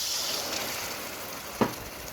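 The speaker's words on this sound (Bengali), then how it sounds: "মশলাটা সুন্দর ভাজা ভাজা হয়ে আসছে" Spice paste for chicken bhuna fries in a pan with a steady soft sizzle, constant and fairly quiet, with a single brief clink near the end.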